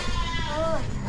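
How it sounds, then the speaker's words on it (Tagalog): A hungry goat bleats once in a short wavering call, fairly close, over low background noise on a Philippine farm. "Gutom na yung kambing."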